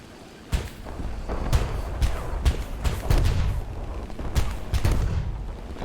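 Heavy 37mm cannon on a Ju-87 G-2 Stuka in War Thunder, firing air-target belts at ground forces: spaced, booming single shots thudding one after another over a steady engine drone.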